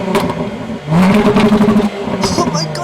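A Jaguar XE S V6 in Forza Horizon 5 revs hard, rising into a loud, sustained rasp before easing off with sharp crackles and pops near the end.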